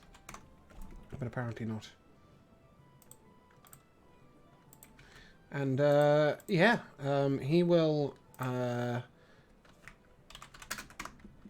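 Rapid taps of a computer keyboard run through the stretch, light and near, while someone speaks in several loud bursts over the top.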